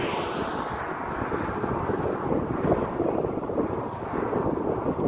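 Strong wind buffets the microphone west of town along Highway 5, a steady, heavy roar with low gusty rumble sustained throughout and no voices.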